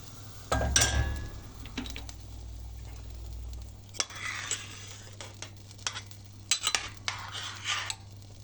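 A metal utensil scrapes and clinks against a steel pot of goose meat and bulgur pilaf in irregular strokes, with a brief low rumble of heat at the start and no talking.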